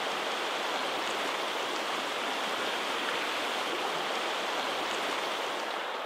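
Trout creek current running over riffles and pools, a steady, unbroken rushing wash of water that fills the whole stretch at close range with no voices.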